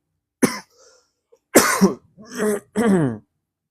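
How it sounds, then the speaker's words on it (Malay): A person coughs and clears their throat several times in quick, harsh bursts, close by and loud, with pauses between. "Minta maaf saya batuk-batuk sikit"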